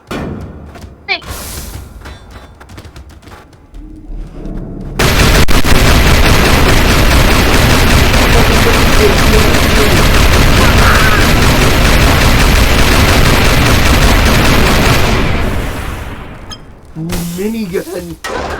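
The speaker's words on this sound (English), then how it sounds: "Minigun." A minigun fires in a video game as a dense, loud, unbroken roar of rapid shots lasting about ten seconds, with quieter game sounds and a voice before and after.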